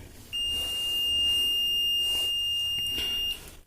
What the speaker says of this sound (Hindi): जैसे ही आप लगाओगे तो इस मल्टीमीटर से बीप की आवाज सुनाई देगी।